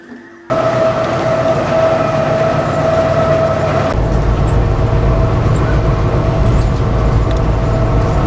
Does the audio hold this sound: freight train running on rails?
yes